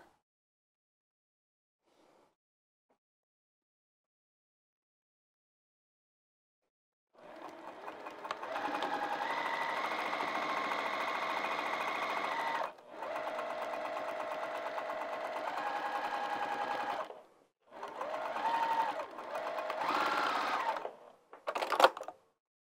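A sewing machine top-stitches a fabric bag in three long, even runs of close, rapid mechanical whirring. The runs are separated by short pauses and end with a final quick burst after near-silence at the start.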